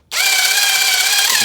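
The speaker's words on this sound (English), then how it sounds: "instead of using a screwdriver, I'm gonna use a drill" A power drill spins up abruptly and whirs at a steady high pitch while driving a car headlight adjustment screw, loud and close, then slows near the end.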